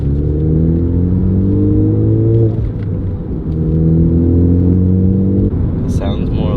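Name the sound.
Ford Focus ST exhaust rumble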